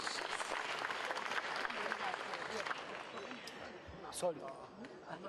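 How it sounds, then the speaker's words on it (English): Conference attendees at the APIEXPO 2018 business expo give a sustained round of applause for a chamber of commerce representative, dense and even throughout, with a voice starting to speak near the end. "Please, let's give her a resounding round of applause"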